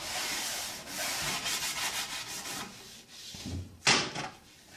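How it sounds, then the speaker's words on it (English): Sanding at an angle along white melamine edge banding on a shelf, a close, steady rasping rub in quick back-and-forth strokes, ending with a brief sharper scrape and a soft knock. "if you sand a little bit of an angle like this to where we're slightly away, then you can actually take that edge down"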